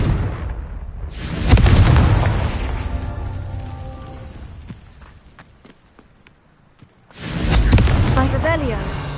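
Confringo fire spell blasts in the Hogwarts Legacy video game: two loud, booming explosive bursts, one early and one near the end, separated by a quieter stretch of game ambience and music.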